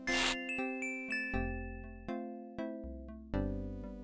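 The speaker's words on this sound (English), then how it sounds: "So it made the chime like" A chime from the adventure game Gabriel Knight: Sins of the Fathers, a clear bell-like tone series of struck notes, each ringing out and decaying, playing alone in a slow, steady rhythm.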